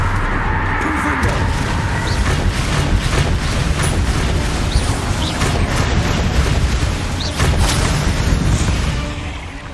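A Confringo fire spell blasts in Hogwarts Legacy combat: dense, roaring booms and bursts of explosive noise run almost without pause, loud and close, with the battle din fading slightly at the end.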